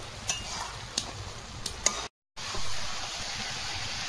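Spoon scraping and stirring tender grated coconut in a pan, soft intermittent clicks and scrapes over a low sizzle, close and fairly quiet, with a short gap of silence.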